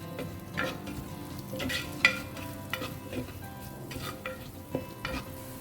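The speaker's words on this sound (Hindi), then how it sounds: "प्याज को ना लाइट ब्राउन होने तक इसे हमें फ्राई करना है।" Onions and green chillies frying in a pan for a Goan prawn curry, a steady close sizzle with repeated scraping stirs and an occasional clink of utensil against metal, no voices.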